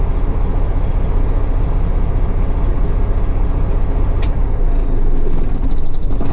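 A truck driving on the road, heard as a loud, steady low-pitched engine drone and road rumble that holds constant throughout, with no talking.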